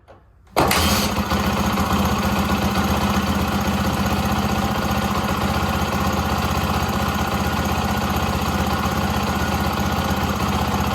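A Yamaha WR400F dirt bike engine with no air filter kicks into life after a short quiet moment, then settles into a steady, loud, close idle that runs unbroken, with no talking.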